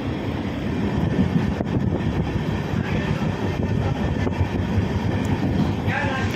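A passenger train rumbles steadily along at close range, a dense, continuous low roar with faint rattling and clacking throughout.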